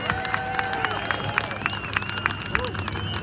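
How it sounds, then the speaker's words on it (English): A crowd at an outdoor rally claps and cheers in a burst of scattered applause. Sharp, irregular claps cut through a murmur of voices and background babble. "Give Jackie Dundee a big round of applause, guys."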